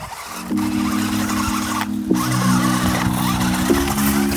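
Toy off-road car whining along a border track, a steady high motor buzz with tonal hum that jumps pitch a few times as it strains and shifts, loud and close throughout, with no voices.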